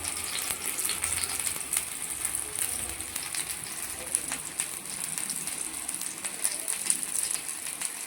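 Mangalore-style fish pieces shallow-frying in oil on a flat tawa pan, a steady dense sizzle with faint crackles running throughout at moderate level.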